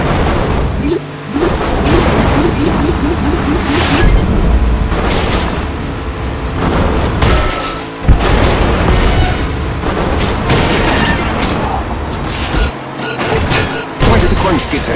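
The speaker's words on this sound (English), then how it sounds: "Rockets incoming!" Rockets in the mobile game Agent Intercept explode in repeated deep booms and crashing blasts over a continuous rumble of game music and effects, loud and dense throughout.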